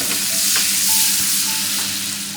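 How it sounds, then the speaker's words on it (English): Half a tomato and onion mixture sizzles steadily in a hot pan while preparing tarka dal, a continuous close frying hiss with a few stirring scrapes and no talking. "And give it a sizzle."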